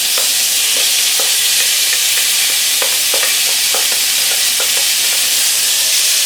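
Butternut squash, about 10 ounces, hitting a hot pan for a fall pasta salad, giving a steady loud sizzle and hiss with scattered crackling pops throughout, no voices.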